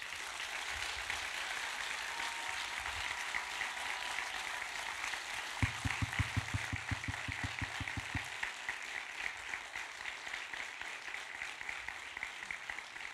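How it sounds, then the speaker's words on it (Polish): Faint, distant applause from a concert audience at a benefit event for Ukraine, a soft continuous patter of many hands with a short burst of rhythmic low thumps partway through. "gorące prośba o klaski dla nas wszystkich"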